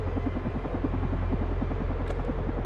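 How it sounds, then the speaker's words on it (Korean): A helicopter in the video game Carrion gives off a steady, droning rotor hum with rapid rhythmic chopping, continuous and fairly loud throughout, with no voices. "그곳은 헬기와 무장 병력들이 지키고 있었고"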